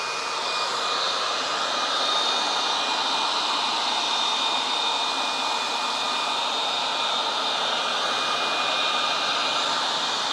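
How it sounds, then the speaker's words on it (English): A Yarbo robotic leaf blower runs on a lawn with a constant, loud, high-pitched rushing roar of air and motor whine that holds steady from start to finish, with no voices. "This is the Yarbo Yarbo blower."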